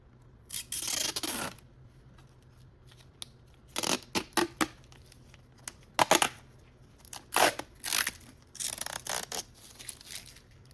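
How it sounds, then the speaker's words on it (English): Protective plastic film is peeled off a face shield visor for a Mandalorian helmet, heard as several close, crackly bursts of rustling and tearing separated by quiet pauses. "I did save peeling this plastic off till the end for the installment"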